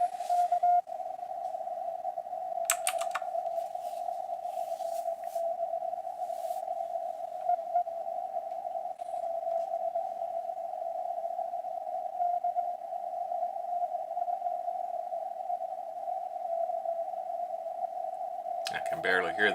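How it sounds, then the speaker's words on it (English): Amateur radio receiver on the 20 meter band carrying a Morse code CW signal, a steady continuous tone held almost unbroken over faint static hiss, with brief crackling bursts of noise near the start and end. "I can barely hear the CW"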